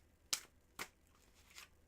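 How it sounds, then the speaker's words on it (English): Tarot cards are shuffled in three short, crisp bursts spaced roughly half a second apart, each quick riffle close by and fading fast against a quiet background. "Serenity, I'm going to start to shuffle."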